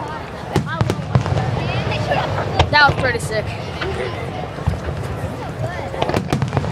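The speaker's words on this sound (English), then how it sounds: "Dude, you can see fireworks in the distance." Fourth of July fireworks over Pittsburgh burst in the distance, a scattered series of muffled booms and crackles beneath continuous casual conversation.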